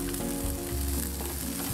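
Garlic and onion sauté in a pan with a continuous, close sizzle and faint crackling, heard briefly on its own with no talk.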